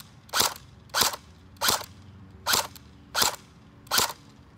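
Custom Cyma AK105 airsoft rifle firing six sharp, evenly spaced single shots outdoors across a yard, each a crisp snapping pop with brief decay, no voices.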